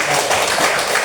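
A short burst of audience clapping during a classroom training session, loud and close, cut off after about a second.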